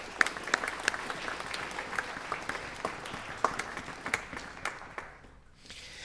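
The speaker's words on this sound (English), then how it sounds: "So how about a round of applause for our administrators?" An audience at a high school band concert applauds steadily, sustained clapping from a crowd that thins toward the end.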